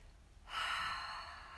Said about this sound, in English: Taking a nice deep breath.